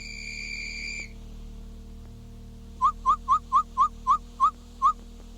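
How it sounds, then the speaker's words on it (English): Several short, shrill blasts of a dinner whistle in quick, fairly even succession ring out over a low background hum, following a brief sustained tone. "That was the dinner whistle"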